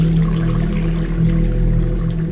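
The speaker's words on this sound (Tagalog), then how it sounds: "Tapos, bumukas ang gripo." A water faucet runs in a steady, continuous gush over a low droning hum, loud and close, with no voices.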